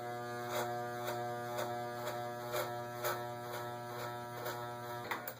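Electric hair clippers buzz steadily and close up while blending a neck taper fade, the drone pulsing in soft regular strokes about every half second as they pass through the hair, with no talking.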